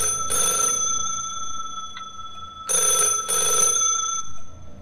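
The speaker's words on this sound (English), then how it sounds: "But someone was ringing me." An old-style telephone bell rings in the video game Schizophrenia, loud metallic rings sounding in bursts: one at the start, then a pause, then two more close together near the end.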